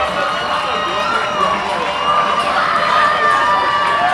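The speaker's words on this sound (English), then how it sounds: "Cheering on Dole." Baseball fans cheer in the stands at a High Point Rockers versus Southern Maryland Blue Crabs game, a steady crowd roar with shouts and whistles swelling slightly, nearby and continuous.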